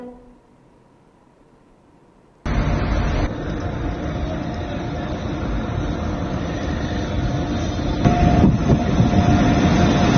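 A train runs on a railway trial run. After brief near-silence, a loud, steady rumbling roar starts abruptly and swells slightly toward the end, heard close and alone.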